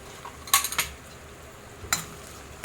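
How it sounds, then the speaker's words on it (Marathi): A spatula stirs coriander powder, cumin powder, Kashmiri red chilli powder and salt in hot oil for dhaba-style dum aloo, giving a quick cluster of metallic clinks against the pan, then a single clink and a faint sizzle. "चांगलं असं एकदम व्यवस्थित असं परतून घ्यायचं तेलामध्ये"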